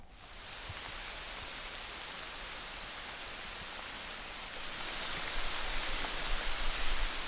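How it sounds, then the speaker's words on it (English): Heavy rain pours steadily on a mountain trail, heard from shelter beneath a tree as a dense, even hiss that swells louder toward the end, with no voices. "It is raining pretty hard out there."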